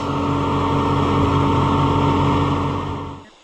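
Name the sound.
vintage tractor engine running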